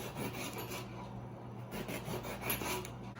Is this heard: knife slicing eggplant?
yes